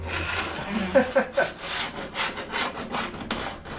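A metal file scraped along a snowboard's steel edge, making repeated rasping strokes in a steady back-and-forth rhythm, close and moderately loud, with a faint low hum underneath and no talk.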